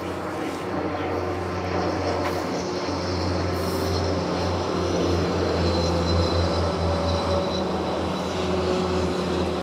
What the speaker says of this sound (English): There's a train coming right now